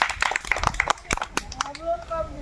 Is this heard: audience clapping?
yes